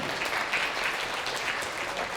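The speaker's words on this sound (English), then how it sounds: "One time, clap it up for Wing Luke." A crowd applauding at a graduation celebration, steady clapping from many hands filling the whole short moment without a break.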